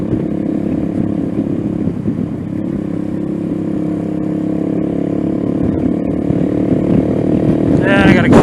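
A Venom Ghost 250 motorcycle riding, its engine droning steadily close up with wind rumble, rising slightly toward the end as someone talks over it.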